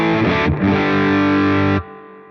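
Electric guitar through a Strymon Sunset Dual Overdrive pedal with both sides running in parallel, a thick, mildly driven chord struck twice, ringing loud and full before being cut off abruptly, no voice.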